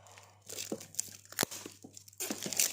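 Tape torn off a wrapped Rakhi gift during unboxing: irregular ripping and crinkling bursts of paper and tape, close up, with a sharp rip in the middle and faint voice sounds around it.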